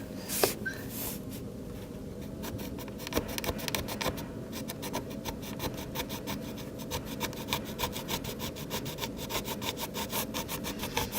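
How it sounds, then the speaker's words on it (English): A plastic putty knife scrapes old caulk off a windowsill, giving a steady, close rasping scrape with rapid repeated strokes throughout, no talking. "I'm going to use this plastic putty knife to try to scrape some of it off"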